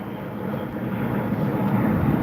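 An Airbus A320 airliner passing sends a steady, broad, low roar that holds evenly throughout, with faint wind rumble and no voices.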